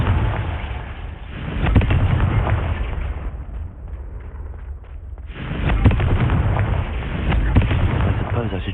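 Confringo spell explosion in the Hogwarts Legacy video game: loud, dense crackling blasts that roll on for several seconds, dip briefly, then surge again in a second burst.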